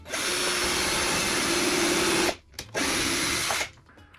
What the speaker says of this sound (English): once we drill into the wood from the outside